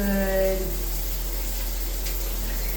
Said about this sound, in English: You taking your shower?